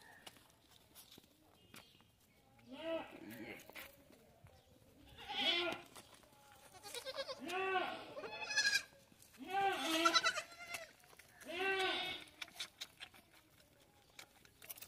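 Goats and roughly fifteen-day-old lambs bleat repeatedly, with several loud, wavering calls spaced a few seconds apart. Faint shuffling footsteps sound between the calls.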